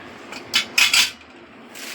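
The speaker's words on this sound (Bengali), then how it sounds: "প্রথমে কড়াই বসিয়ে দিয়েছি," A metal kadai, or wok, clanks onto a kitchen stove burner while a spicy masala is being prepared. Three or four close, bright metallic knocks sound together within a moment, with no talk.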